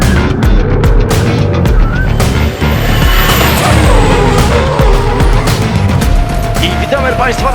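Drift cars compete at the second round of the Polish Drifting Championship at the Słomczyn track, their engines roaring loud and close with rising and falling revs under a constant heavy rumble.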